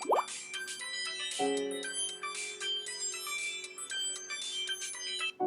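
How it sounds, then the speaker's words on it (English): A mobile phone ringtone plays loudly and close by, repeating a bright bell-like melodic pattern of chiming notes over sustained tones for several seconds, with no talking. "Sorry, my phone was going off."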